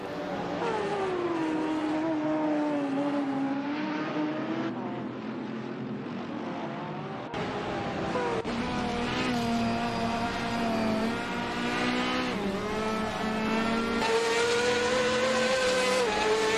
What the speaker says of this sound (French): pour vous faire kiffer le son de cette Ginetta